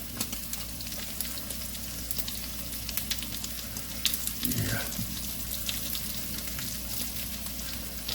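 Vegetables sauté in butter in a pan, giving a steady close sizzle with light crackles and occasional clinks of stirring, and nobody talks.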